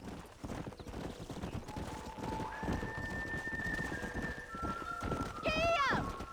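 In the Red Dead Redemption video game, a horse's hooves clop steadily over a murmur of voices, then the horse lets out a loud, shrill whinny near the end.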